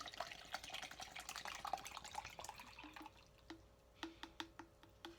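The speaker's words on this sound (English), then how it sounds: "So I'm going to pour it in here." Colonoscopy prep liquid medication poured from a bottle into a cup, a steady splashing pour fading into a series of sharp, quiet drips at close range.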